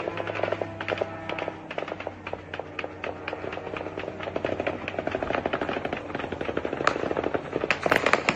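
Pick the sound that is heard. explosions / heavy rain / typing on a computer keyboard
explosions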